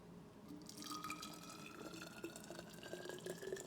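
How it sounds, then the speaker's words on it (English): Water poured steadily to fill a container in a home kitchen, a continuous trickling, dripping splash with rising tone as the vessel fills, close and fairly quiet, no talk. "That sounds like I'm pouring water."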